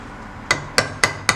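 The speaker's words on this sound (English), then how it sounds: "This is where the small chisels really come in handy" A hammer strikes a small chisel carving stone in four sharp, evenly spaced taps, close and crisp with a slight ring after each hit.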